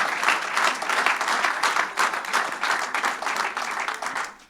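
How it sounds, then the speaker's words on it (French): Audience applause at the Madame Artisanat d'Alsace 2022 ceremony, welcoming a winner on stage: a dense, sustained wash of clapping from a sizable crowd at steady volume throughout. "Vous pouvez effectivement l'applaudir"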